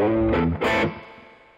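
A short burst of heavily distorted electric guitar, a couple of thick chords that ring out and fade.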